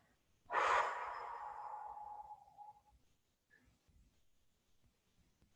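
A single long exhalation during a thigh stretch in a fitness workout, a loud breathy rush that fades over about two seconds, followed by quieter faint breaths.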